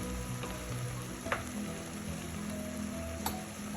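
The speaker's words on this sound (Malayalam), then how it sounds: "ഇത്രയും ചേർത്ത് നമുക്ക് നല്ലപോലെ ഒന്ന് വഴറ്റാം പച്ചമണം മാറുന്നവരെ നമുക്കതൊന്ന് ഈ ഓയിലൊന്ന് മൂപ്പിക്കാം" Chilli, coriander and garam masala powders frying in oil for a chicken curry, a steady soft sizzle with a few light scrapes and ticks of stirring, no talking.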